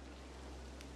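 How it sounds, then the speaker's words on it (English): Heavy rain pours outside, a steady, dense hiss of drops that holds at an even level throughout, fairly faint and with no voices. "It's a very big and heavy rain thingy going on"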